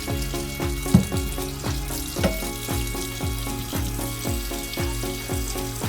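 Broth goes into a pot of frying beef papaitan with a whole onion, giving a loud, steady bubbling sizzle that churns in an even rhythm with a couple of sharper splashes.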